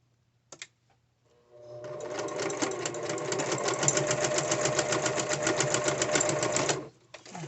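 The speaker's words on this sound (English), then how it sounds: "I'm just going to go ahead and sew this because it's just a tiny little bit." A sewing machine stitches fabric in one continuous, fast rhythmic run of about five seconds, loud and close, after a couple of brief clicks and before it stops abruptly.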